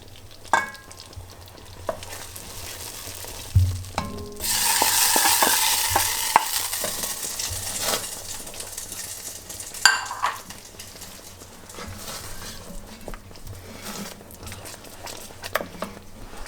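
Hot butter with pepper sizzling in a pan, a quiet cooking scene with a louder burst of frying and stirring clatter midway and scattered utensil clicks around it.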